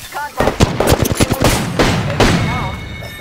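Gunfire in the shooter game Apex Legends, a rapid burst of close, loud shots followed by a few heavier blasts and fading echo, with voices mixed in between the shots.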